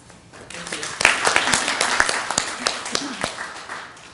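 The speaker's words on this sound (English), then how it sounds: "let's give a big applause to Coral Getino" An audience at a cultural diversity and civic engagement event in downtown Knoxville breaks into applause for a speaker, swelling after a quiet start into moderate, close clapping with a few sharp individual claps.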